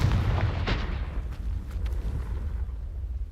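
A Confringo fire spell from Hogwarts Legacy bursts in a loud, close explosion, its deep boom rolling out and fading into a rumbling tail.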